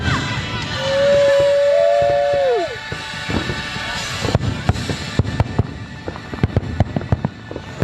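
A fireworks show on the beach at Disney's Grand Floridian: a rising whistle, then a string of sharp pops and crackling bursts, fairly distant and echoing across the water.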